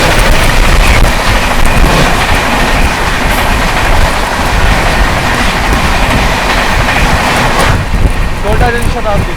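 A Kota Jan Shatabdi Express crossing at close range, a loud continuous roar of rushing wheels and rattling coaches with steady clickety-clack that fills the whole stretch.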